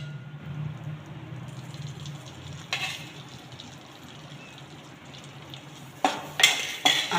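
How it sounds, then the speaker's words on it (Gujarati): Flour and ghee are stirred in a pan for Gujarati sukhdi, a soft sizzling scrape under steady stirring, ending with several louder clinks of a spoon against the pan. "હવે આપણે એને હલાવીને એકદમ મિક્સ કરી દઈશું।"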